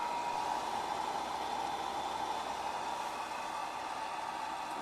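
Steady broadband rushing blower noise from the gas heater of a 1966 VW Beetle, a constant airy hiss with a tonal hum, holding even and close throughout with no speech.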